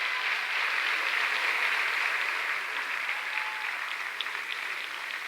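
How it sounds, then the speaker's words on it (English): Sustained applause from an audience at a school district back-to-school gathering, honouring staff for 20 years of service; a steady, even wash of clapping that fills the room for the whole stretch without talk. "One more round of applause for 20 years of service to our graduates on there."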